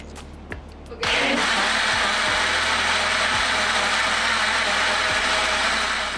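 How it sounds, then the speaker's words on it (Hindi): An electric blender mixes cake batter with vanilla essence. After a second of clicks it starts with a loud steady whir that runs close and continuous to the end, with occasional pitch dips. "बस अब हम इसको ब्लेंड करेंगे और हम इसके ऊपर पोर कर देंगे"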